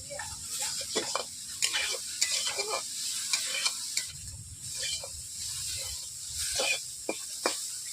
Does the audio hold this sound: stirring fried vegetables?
yes